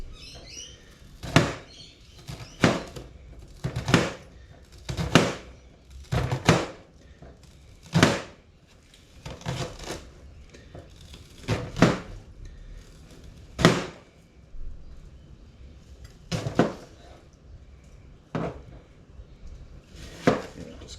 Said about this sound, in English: Cutting all the onion to smaller pieces.